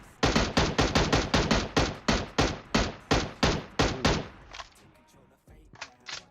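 Automatic gunfire in the PUBG Mobile video game: about a dozen loud, evenly spaced shots, then a pause and a few fainter shots near the end.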